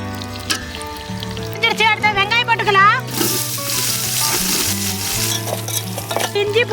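Green chillies drop into hot oil left from frying chicken for Malabar chicken dum biryani, giving a loud, close, steady sizzle with stirring and utensil scrapes throughout.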